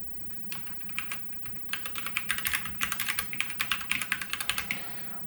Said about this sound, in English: In terms of typing, I did choose red switches, which feels quite nice.